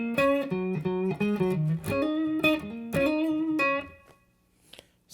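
Electric guitar plays a riff at regular speed, tone slightly distorted, with a fast run of bent and hammered notes and choppy accents for about four seconds, then fading to near silence.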